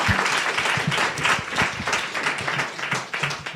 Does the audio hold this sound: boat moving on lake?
no